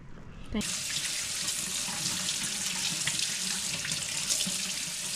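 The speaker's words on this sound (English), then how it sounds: "Now I'll wash it up and then let it dry." Tap water runs steadily over a cedar cutting board in a sink, a sudden onset into a loud continuous splashing hiss that stays even throughout.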